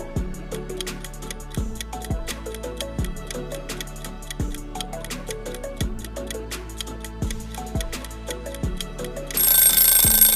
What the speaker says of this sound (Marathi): ह्याचे उत्तर आहे घड्याळ